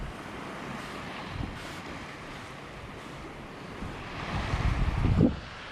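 Surf washing onto a beach with clear water, a steady broad wash of breaking waves with wind across the microphone, swelling to a louder surge near the end.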